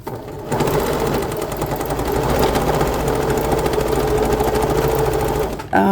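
An old sewing machine stitching steadily with a fast, even mechanical whir, loud and close, running continuously for several seconds before stopping abruptly near the end.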